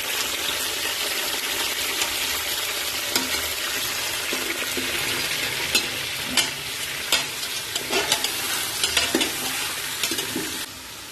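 Chicken frying and sizzling in hot oil in a pan as it is stirred, a steady close hiss broken by scraping and clinking stir strokes, no talking.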